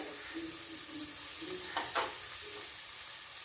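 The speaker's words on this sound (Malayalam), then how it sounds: "എണ്ണ തെറിച്ച് വെക്കുന്നു." Oil spattering and sizzling steadily in a pan while fish curry masala fries, a continuous hiss with a couple of sharper pops and stirring scrapes near the end, no talk.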